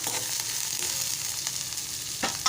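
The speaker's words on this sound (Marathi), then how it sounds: "कांदा मिरच्या तेलात परतून घेऊया" Onion and green chilies sauté in oil for a drumstick vegetable curry, a close steady sizzle and hiss with a couple of stirring scrapes near the end.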